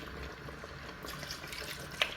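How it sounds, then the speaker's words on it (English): A small amount of water, about half a cup, runs quietly into a cooking pot on the stove, a soft steady trickle with a faint splash near the end. "I'm also adding in some little water to just help with the boiling."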